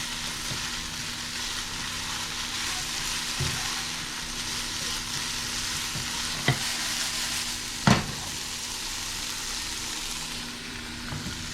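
Steak and onions frying in a pan for a breakfast steak sandwich, a continuous loud sizzle with occasional utensil taps and clacks, close up and with no one speaking.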